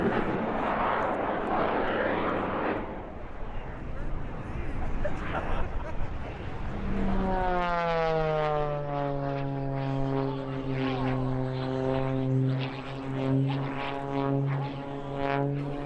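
A propeller aerobatic airplane performs at the EAA AirVenture Oshkosh airshow, with a steady loud engine roar that shifts into a rising and falling pitched drone as the plane maneuvers, with no voices.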